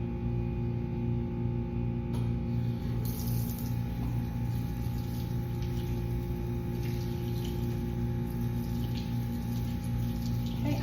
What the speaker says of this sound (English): I'm going to be rinsing my hands and wrists with a stream of cool water.